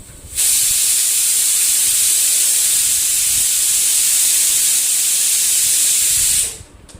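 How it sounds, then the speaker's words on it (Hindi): A steady, loud hiss of escaping steam from a pressure cooker runs unbroken for several seconds, then cuts off abruptly, like the cooker venting. "अभी कुकर की आवाज़ आएगी"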